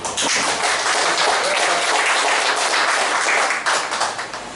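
A seated audience at a book and coffee gathering claps in a loud, dense burst that holds steady for several seconds before starting to thin out near the end.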